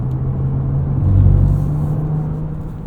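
A 2023 Porsche Cayenne S in Sport Plus mode gives a steady low engine drone from inside the cabin, swelling briefly louder around the middle as it pulls, with no talking.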